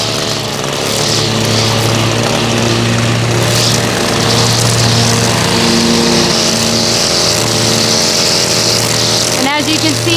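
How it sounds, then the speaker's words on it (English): A string trimmer cutting grass along lawn edges and garden beds, its engine droning loudly and steadily for the whole stretch, with a brief higher whine near the end. "I'm using directional trimming. I'm shooting the grass out into the lawn and not back into the beds"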